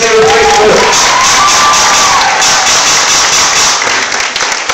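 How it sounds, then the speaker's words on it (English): A school audience at a sober grad hypnotism show breaks into loud cheering and whooping with a steady wash of applause, one voice shrieking high above the crowd before the noise holds level to the end. "How about a round of applause for your friends that are right here?"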